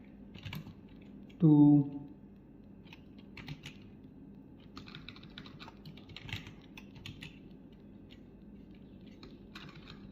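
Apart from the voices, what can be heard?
typing on a computer keyboard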